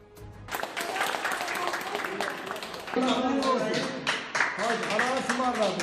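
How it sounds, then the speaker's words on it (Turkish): Crowd applause for recovering patients being discharged from hospital, steady clapping throughout with voices and cheering rising over it in the second half. "Alkışlar savaşın kazananları içindi."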